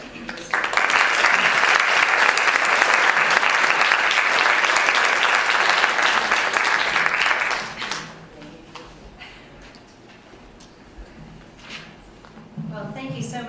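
An auditorium audience breaks into loud, sustained applause welcoming an author to the stage, a dense wash of clapping for about seven seconds that fades out, followed by a quieter pause and a voice beginning to speak.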